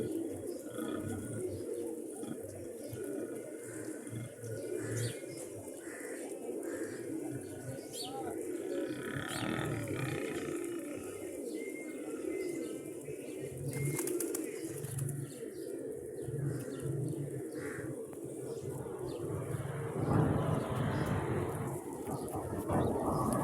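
Pigeons coo steadily over a dense, continuous layer of birdsong, with occasional chirps and wing flaps nearby. The sound holds at an even, moderate level throughout, with no speech.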